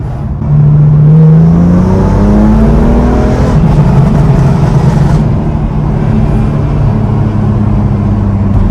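A BMW F82 M4 engine with catless downpipes and equal-length midpipe revs hard and loud, its harsh, raspy exhaust note rising and holding, then settling into a rough, rumbling idle.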